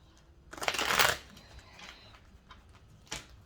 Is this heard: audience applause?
no